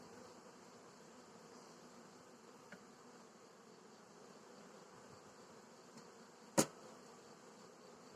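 A steady, soft buzz of many honeybees swarming in front of a hive outdoors, continuous and low, with one brief sharp click partway through.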